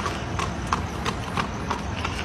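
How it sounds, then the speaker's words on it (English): A horse-like clip-clop sounds as a run of evenly spaced hollow knocks at a steady trotting rhythm, moderately near, over a low rumbling background. "Pero se oye como un caballo."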